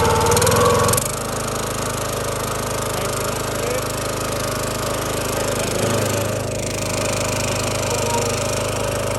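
A warmed-up small gas engine on a CountyLine 25-ton log splitter, choke off, runs at a steady close-up idle after a slightly louder first second, with a constant low drone and rattly mechanical hum.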